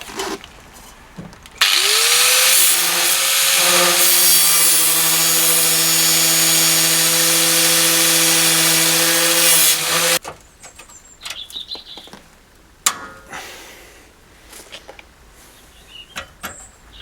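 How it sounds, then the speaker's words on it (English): An angle grinder works on the front bumper of a Talbot Express motorhome, spinning up to a loud, steady whine for about eight seconds before cutting off, followed by scattered clanks and handling noises. "Warm it up a bit with the grinder."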